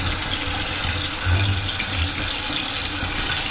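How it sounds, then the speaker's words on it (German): Cold tap water runs steadily over plastic bags held under a kitchen faucet, a continuous close splashing rush that carries on for the whole stretch without any talk. "Die Beutel halte ich jetzt kurz nochmal unter Kaltwasser."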